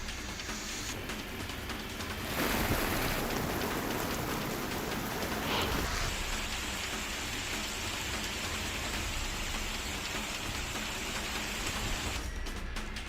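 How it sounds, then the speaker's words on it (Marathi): Steady rain falls in the western part of Satara district, Maharashtra, as a broad, even hiss of a downpour that swells slightly after a couple of seconds and continues unbroken. "सातारा जिल्ह्याच्या पश्चिम भागात पावसाला पुन्हा सुरुवात झाली आहे।"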